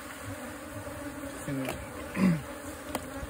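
Bees hum around a hive built inside a hollow tree trunk, a low steady buzz with a few louder passes close by and a short spoken word over it.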